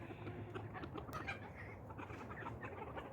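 A rooster clucks and mutters softly on a farm, several short calls close by over a steady low background, with no one talking.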